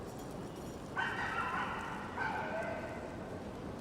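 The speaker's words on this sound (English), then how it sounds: "It's a loud dog." A dog barks loudly on a Manhattan street on Malcolm X Boulevard in Harlem, two short bursts of barking about a second apart, standing out over a low hum of city noise.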